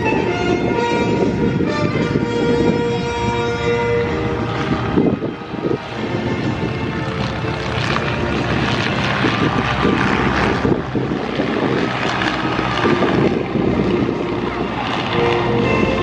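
Aircraft engines drone loudly and steadily at a flying-circus airshow, the propeller roar continuous and close with slight swells in pitch and no breaks.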